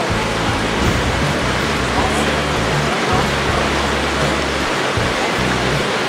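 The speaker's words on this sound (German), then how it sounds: "Jetzt kommt das Wasser." Loud, steady rushing water fills a lock chamber on the Göta Canal, a dense continuous roar with low churning underneath and no pauses.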